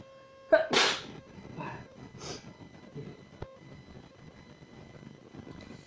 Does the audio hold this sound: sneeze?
yes